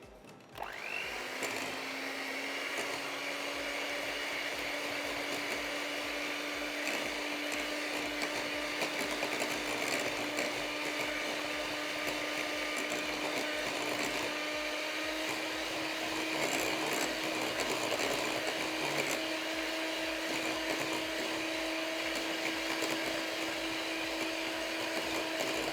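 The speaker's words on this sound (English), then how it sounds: "I'll use a hand mixer just to get that air in perfectly" An electric hand mixer beats zucchini and vanilla chocolate muffin batter, starting up and then whirring in a steady, loud, close motor whine for about twenty-five seconds, with no talking.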